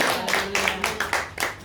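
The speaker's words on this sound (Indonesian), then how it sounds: "Tepuk tangan Tuhan Yesus." Church congregation clapping for Jesus during a sermon, a sustained burst of applause-like clapping with rhythmic swells, fairly faint and a little distant, with a voice faintly mixed in.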